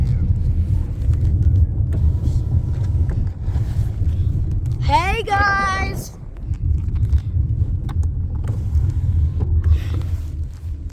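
Low, steady rumble of a car driving, heard from inside the cabin, with a short whistling or sliding tone in the middle and brief spoken voices over the engine and road noise.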